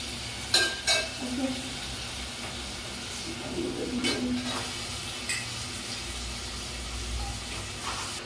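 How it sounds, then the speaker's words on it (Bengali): Chicken masala sautéing in a pan, a quiet steady sizzle with a few sharp clinks of a utensil against the pan early on and soft stirring scrapes throughout. "চিকেনের মশলা কষিয়ে কষিয়ে নিয়েছি প্রায়, দেখুন"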